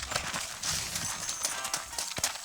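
Horse hooves clip-clop in the Red Dead Redemption video game, a quick, irregular run of fairly faint hoofbeats over a soft ambient background.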